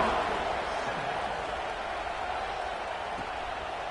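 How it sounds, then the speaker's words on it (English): A football stadium crowd buzzes in a steady, diffuse roar after a score, a broad wash of distant voices with no distinct cheers standing out, holding level for the whole stretch. "this crowd is buzzing after that last score"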